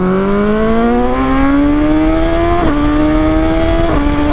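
A BMW motorcycle engine revs hard and accelerates up through two gear changes, its rising whine loud and close with no talking.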